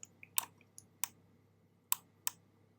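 Sharp computer mouse clicks ring out singly and in quick pairs, five or six distinct taps spaced irregularly over a quiet room background, close and crisp with no talking.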